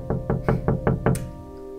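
Someone imitates knocking on a window with five loud, evenly spaced raps in quick succession, close and clear, followed by a brief ringing tail.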